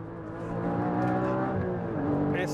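Porsche Cayman GT sports car accelerating through a curve, its engine holding a loud sustained tone that climbs in pitch as it pulls hard, with no talk over it.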